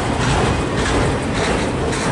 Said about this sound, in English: I wonder if there's any truck frames on this train.